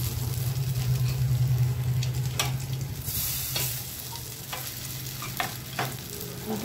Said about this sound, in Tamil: நான் சொன்ன மாதிரி ஒரு சைடு நல்லா ஃப்ரை ஆயிடுச்சுன்னா அதை திருப்பி வைங்க.